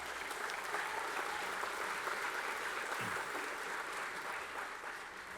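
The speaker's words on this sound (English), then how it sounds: "please give them a round of applause" A large dinner audience applauds health workers with a continuous, even wash of clapping from many people that fades slightly toward the end.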